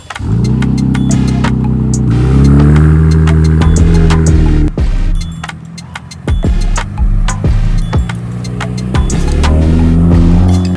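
A 2026 Ram Big Horn pickup with Baja-style bumpers revs its engine loudly and close, deep throbbing pulses rising and falling while the exhaust system rattles and vibrates underneath.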